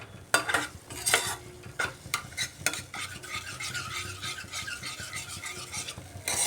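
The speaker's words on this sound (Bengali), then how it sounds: "এবার গ্যাসের আঁচটা বাড়িয়ে আমি মশলাটাকে কষিয়ে নিচ্ছি" Masala and yogurt are stirred and fried in a pan over raised heat, with a few loud spatula scrapes and clinks at first and then a steady, close sizzle under continued stirring.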